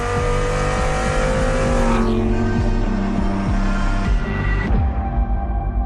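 A Lamborghini Huracán STO super sports car drives with a loud, steady engine roar and shifting revs that rise and drop across the stretch, with no voices.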